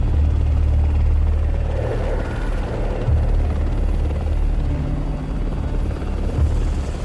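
Dramatized airliner diving toward a mountain ridge, a loud, steady engine roar that holds at full power throughout with no break and no speech.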